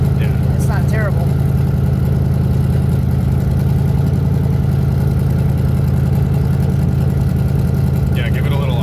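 Twin-turbo LS V8 swapped into a Nissan 350Z, running steady with a loud, continuous low drone held at an even pitch throughout, with brief faint chirps at start and end.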